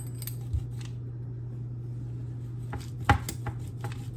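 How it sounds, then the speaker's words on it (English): Knife slicing through a homemade veggie pizza in a home kitchen, a few crisp cutting crunches and taps near the start and a louder cluster toward the end over a steady low hum. "Gonna cut the pizza."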